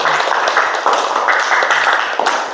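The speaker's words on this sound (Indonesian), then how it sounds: "kita berikan tepuk tangan" Classroom applause for group one after their presentation: a short burst of many hands clapping in bursts, fairly near and moderately loud, with faint voices mixed in.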